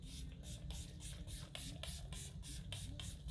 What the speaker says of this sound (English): So this is gonna lock everything in. Yes. This is our new setting spray.